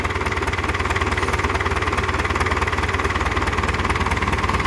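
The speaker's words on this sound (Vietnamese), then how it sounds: "Máy nổ rất là êm, rất sạch nhiên liệu nha, không có khói trắng nha." A Yanmar 4JH marine diesel rated at 114 hp runs steadily at about 4100 rpm on a test, a loud, even, throbbing drone with a rapid mechanical knock, close and unbroken.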